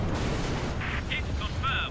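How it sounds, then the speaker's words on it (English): Anti-aircraft fire in a flight combat video game, heard as a steady rumble of low booms with scattered bright bursts over about two seconds. A voice speaks over the gunfire. "AA fire."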